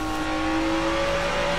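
A powerful car engine in the Watch Dogs video game holds a loud, steady drone at a sustained pitch with no pauses, close and alone.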